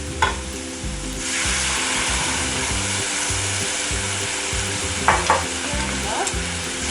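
Sweet and sour sauce hits fish sticks frying in a pan, a loud steady sizzle with stirring scrapes and a couple of sharp clatters, no voices.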